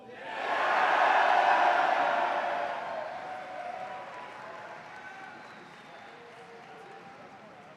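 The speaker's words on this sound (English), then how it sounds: "Ladies and gentlemen, a round of applause for the class of 2025." A crowd bursts into applause with some cheering at a class ring presentation, peaking early and then tapering off into scattered clapping.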